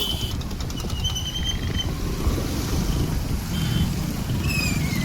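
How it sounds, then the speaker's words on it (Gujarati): Road traffic crawls toward the Sandhida Mahadev temple fair: a continuous low engine rumble, with shrill electronic beeps and horn-like tones chirping intermittently over it, fairly loud and close. "મંદિરે જવા માટેનો ટ્રાફિક"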